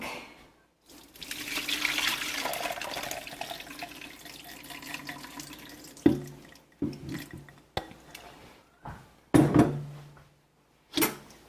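Butter wash water poured through a strainer over a kitchen sink, a soft continuous trickle and splash followed by several short sharp clatters and splashes, near and fairly quiet with no talk.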